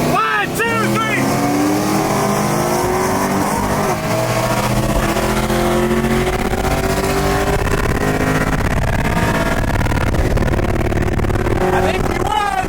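A Chevrolet Camaro and a Ford Mustang race side by side, their engines roaring and climbing in pitch as they accelerate hard. The sound stays loud and close, a continuous full-throttle drone, with a faint squeal early on.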